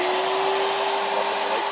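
A shop vac runs with a Harbor Freight sandblaster, a close, steady whooshing whine with a constant tonal hum, unbroken for the whole short stretch.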